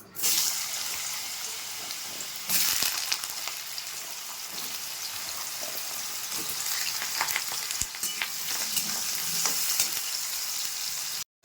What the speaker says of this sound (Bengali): এখানে তেলটা গরম হয়ে গেছে আলুগুলো ভেজে নেব